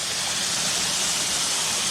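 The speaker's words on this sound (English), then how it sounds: "the water's coming down the hill and just goes through a crack in the rocks in the corner" Waterfall water pouring steadily down over rocks into a pool, a continuous broadband rushing roar with no pauses, close and even in level throughout.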